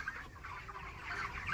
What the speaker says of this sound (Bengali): এই মুরগিগুলোর বয়স অলরেডি আজকে 33 দিন হয়ে গেছে